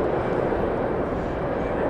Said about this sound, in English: A380 continuing to taxi.